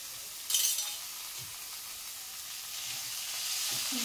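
Radish leaves dropped into a hot pan of oil with turmeric, giving a sudden loud sizzle burst, then a steady hiss of frying that rises slightly toward the end, with no talk.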